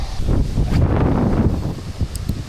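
Steady wind buffets the microphone while fishing on the Dnipro river, a loud continuous rumble and rush with gusty swells throughout, no other sounds standing out.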